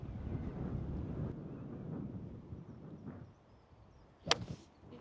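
Faint wind buffeting on a golf course, a low steady rumble that eases off, followed by a brief sharp swish or strike near the end.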